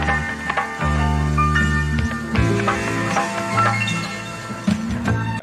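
A boom bap hip hop sample loop plays clearly and steadily, with sustained bass-heavy tones, layered melodic notes and light percussive clinks running through the whole stretch without any talking.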